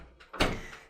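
A door is shut with a solid thud at a weekend retreat, followed by a short rattle of the latch or lock, close by and with no talk.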